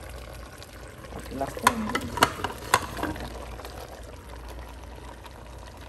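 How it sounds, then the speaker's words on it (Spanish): Potatoes and carrots tumble into a cooking pot of Cuban-style beef with onion, giving a few soft clattering knocks and a light pouring sound at moderate volume, while someone speaks briefly. "Ahora voy a echarle las papas con las zanahorias."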